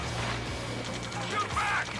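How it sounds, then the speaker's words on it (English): Gunfire crackles through a battle in the video game Ace Combat 7, a steady dense mix of shots and rumble under shouted radio voices, with a brief metallic whine near the end. "Return fire! Sierra 2, hold position! We're cut off! Taking fire!"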